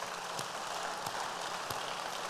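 Congregation applauding during a French-language church service, a steady, even patter of many hands clapping at moderate distance, fairly quiet and sustained, with no talking.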